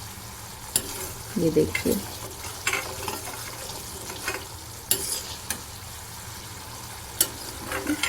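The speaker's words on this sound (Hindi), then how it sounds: "अगर आपने इसको चलाना छोड़ दिया तो ये दही जो है ये नीचे जल जाएगी कढ़ाई में।" Yogurt masala for a dahi arbi curry sizzles in a kadai while a spoon stirs it in soft, irregular scrapes and clinks. The frying is quiet and close, with a brief spoken remark over it.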